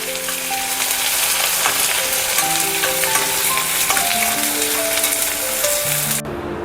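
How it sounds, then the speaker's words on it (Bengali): Sliced onions for beresta sizzle hard in a pan of hot oil, a loud, continuous hissing fry that stays even throughout, with faint melodic tones underneath before it cuts off abruptly near the end. "এবার এই তেলটার মধ্যে আমি বেরেস্তার পেঁয়াজগুলো ছেড়ে দেব।"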